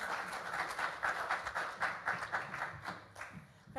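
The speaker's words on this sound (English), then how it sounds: "Let's give her a big round of applause as she comes up." An audience claps for a woman coming up to the front at an event, giving steady mid-level applause that lasts the whole time and fades slightly at the end.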